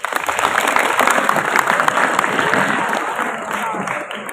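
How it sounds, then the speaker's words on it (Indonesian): An audience applauds at a Muharram celebration event, a dense burst of clapping that stays strong, then gradually thins and fades toward the end. "Tepuk tangan dong."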